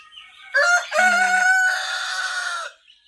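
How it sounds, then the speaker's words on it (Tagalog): A rooster kept for cockfighting crows loudly and close by, a long drawn-out call, with a few brief clucks just before it. "mga alagang manok yan o pang sabong"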